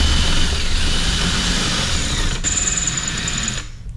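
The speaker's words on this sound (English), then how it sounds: "Don't want to tear this up too bad with my drill" Power drill boring a hole through a homemade gasket on a 1967 Volkswagen Fastback, a steady loud close whine running without pause for nearly four seconds before cutting off.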